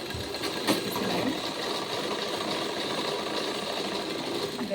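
A sewing machine stitching a blouse runs in a steady, close, continuous whir with a fast mechanical rattle that keeps an even level throughout.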